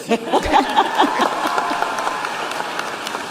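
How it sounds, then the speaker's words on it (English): Audience applause breaks out partway through a political speech praising a president's record, a dense, steady wash of clapping that swells at the start and holds at a moderate level throughout. "yes, you may clap"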